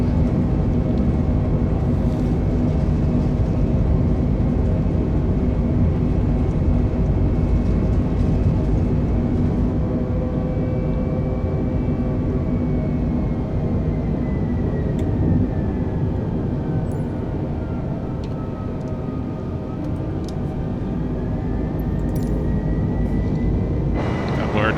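Airbus A320 airliner in Microsoft Flight Simulator 2020, flying over New York City: a steady, loud broadband engine roar with a constant low drone that runs throughout, as thin tones slowly rise and fall.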